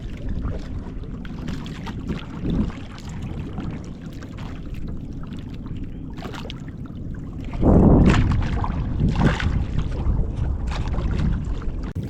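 Boat engine running at high speed on open water, a steady droning churn with wind buffeting and water splashing, surging louder for a few seconds in the latter half.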